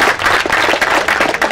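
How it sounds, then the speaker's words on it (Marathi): Loud, close audience clapping at a cricket tournament prize ceremony, a vigorous burst of rhythmic hand claps filling the whole moment. "जोरदार टाळ्या झाला पाहिजे।"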